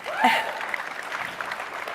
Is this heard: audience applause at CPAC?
yes